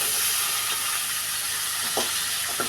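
Long beans stir-fried with shrimp and onion in a pan, a steady hissing sizzle with a few soft scrapes and knocks of the spatula near the end.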